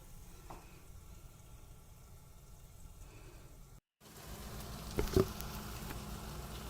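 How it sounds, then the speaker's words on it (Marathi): Onion cooking in oil over a medium gas flame, a quiet, even sizzle with a brief break partway and a couple of faint utensil knocks. "जरा मीडियम गॅस करते, म्हणजे कांदा आपला छानपैकी शिजेल."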